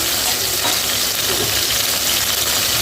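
Bitter gourd pieces frying in hot oil for a kuzhambu, giving a steady, dense sizzle that stays loud and even throughout with no voices.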